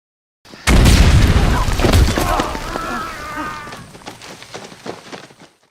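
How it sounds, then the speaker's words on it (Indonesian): A sudden loud landmine explosion bursts out of silence, followed by rumbling debris and crackling that gradually fades away. "Ledakan ranjau mengubah segalanya."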